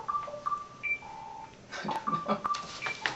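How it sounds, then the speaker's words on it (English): A mobile phone sounding in a room, a few short electronic beeps and tones, some long and steady, with people talking over the latter part. "It sounds like somebody's phone."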